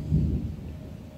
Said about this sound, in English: That's like the fakest thunder I've ever heard.